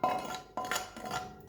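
A utensil scraping and clinking against a pan as leftover spice mix from boiled chicken is cleaned out, three short close scrapes in a quiet kitchen.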